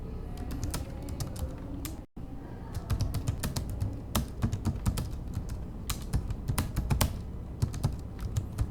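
Rapid, uneven typing on a computer keyboard while entering an answer during an online exam, with dense clicking throughout, one brief gap near the start, and no talk.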